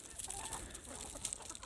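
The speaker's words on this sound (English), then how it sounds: "I am surrounded by chickens." Chickens cluck softly nearby, a scattered chorus of short, quiet calls over faint outdoor background.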